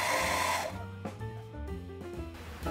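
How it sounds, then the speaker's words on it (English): A blow dryer drying a sheet of paper, its loud airy whoosh close up for the first half second before cutting out, followed by quieter tonal sounds. "You can either let it air dry or use a blow dryer."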